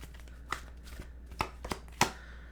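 Tarot cards shuffled by hand in short, sharp riffling bursts, with a few distinct flicks spread over a couple of seconds in a quiet room.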